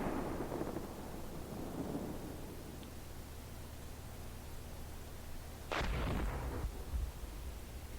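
Distant gunfire rumbles in the Steel Beasts Pro tank game, deep booming reports rolling under a steady low drone, with one sharper, louder blast near the end.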